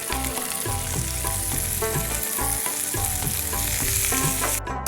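Cumin seeds and chopped onions sizzle and crackle in hot oil for Indian stuffed capsicum, with a dense, steady frying hiss and busy stirring clatter that holds close and loud for the whole stretch, no voices.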